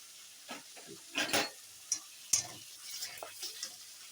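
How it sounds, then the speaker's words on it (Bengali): Chicken fries in a pan with a ground paste of ginger, garlic, onion and green chili, heard as intermittent bursts of sizzling and spatula stirring against a quiet background, with no one talking. "বাটা মশলা দিয়ে ভালো করে কষিয়ে নিচ্ছি"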